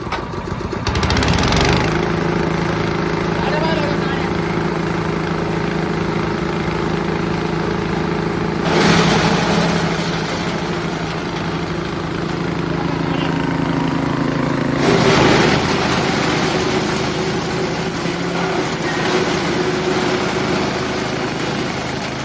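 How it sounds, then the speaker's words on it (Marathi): A petrol engine on a wood-cutting chaff cutter machine, used for cutting tree branches, runs steadily at a close, loud idle with a constant drone and a few brief surges in revving. "आता आपण इंजिन चालू करू शेतकरी मित्रांनो"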